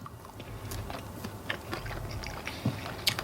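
Close-up chewing and crunching of homemade chicken wing bones, with soft mouth sounds and a few sharp cracking bites standing out in a quiet room.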